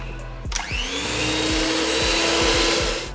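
Electric hand mixer whirring steadily through banana cake batter as flour is added, starting abruptly with a jolt and then running loud and continuous with rhythmic bumps of the beaters against the bowl.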